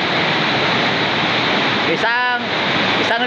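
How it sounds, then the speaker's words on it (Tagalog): Steady broadband rush of water flowing in a stream, loud and close, running throughout with a brief splashy gurgle near the end. A voice speaks over the flow. "Agos-agos ang tubig, agos-agos oh."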